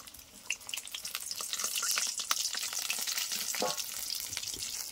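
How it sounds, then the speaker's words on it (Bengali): Chicken pakoda being fried a second time in hot oil, a steady close crackling sizzle with bubbling that builds and holds, plus a few small clinks. "আর আগে যেটা ভেজে রেখেছিলাম ওইটাকে এবার ভেজে নেব আরেকবার।"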